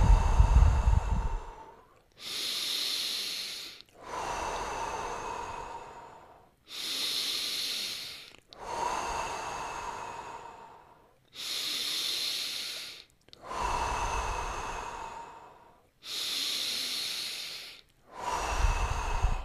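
Deep breathing during a breathwork session, with long, loud inhales and exhales in a slow, regular rhythm close to the listener and short silent gaps between breaths.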